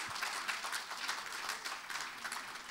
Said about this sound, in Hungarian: De most ezt úgy tapsoljátok meg, mintha az én poénom lenne